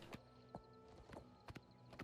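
Horse hooves clip-clop in Oblivion Remastered, a fantasy role-playing video game: a few distinct, evenly spaced thuds about every half second, moderately close, with a faint steady ambient tone behind and no talk.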